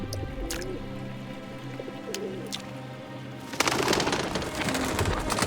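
Pigeons cooing at a riverbank, soft repeated calls in the first few seconds, followed by a louder burst of rushing, rustling noise like wingbeats or splashing water at the end.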